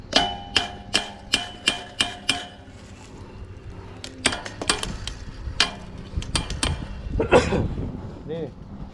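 A hammer strikes metal in a quick run of about seven even blows, followed by scattered irregular knocks and clatter while people talk nearby.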